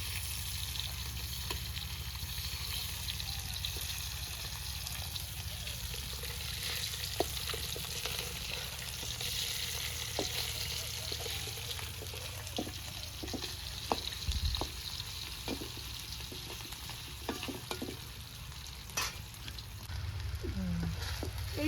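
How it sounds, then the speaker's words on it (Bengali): Small chanda fish cook in a pan with a thick green chili paste, giving a steady, moderate sizzle punctuated by occasional utensil clicks and stirring scrapes. "একটা ছোট ছোট চান্দা এটা দেখি একদম এটা কাঁচা বেশি করে কাঁচামরিচ সব পেস্ট দিয়ে সুন্দর করে রান্না করে নিচ্ছি এখানে"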